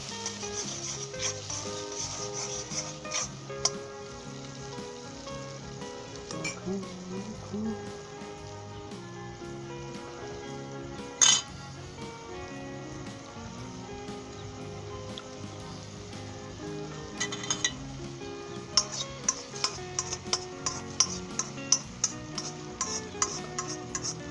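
Egg fried rice is stirred and tossed in a pan for a long stretch, with a continuous low sizzle and frequent clicks and scrapes from the utensil that thicken toward the end, while a voice talks throughout.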